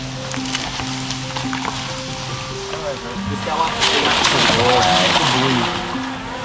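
A 15-foot saltwater crocodile fitted with satellite and acoustic trackers is released back into the water, sending up a burst of nearby splashing and sloshing partway through, under and between people's voices.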